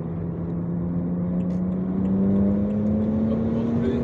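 A BMW 135i M Performance accelerates on the road, its engine tone droning and rising steadily in pitch as it pulls through a gear, heard from inside the car over steady road noise.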